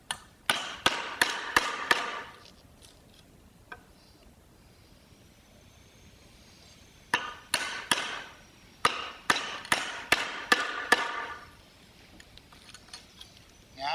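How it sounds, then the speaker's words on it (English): A smaller wood chisel struck repeatedly while chopping out a mortise, giving two clusters of crisp, evenly spaced mallet blows, close and loud, separated by a quiet pause. "a smaller chisel, work my way back to my line, just to get some of the worst of this out"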